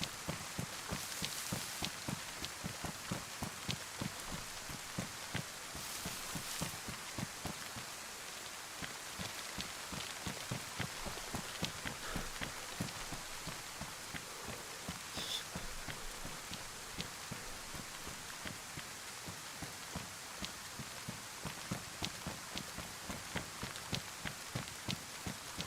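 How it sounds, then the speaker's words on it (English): Steady rainfall in the survival game DayZ, a soft continuous hiss with a regular patter of footsteps running through it, moderately faint and even for the whole stretch, with no voices. "I really want it to stop raining, though"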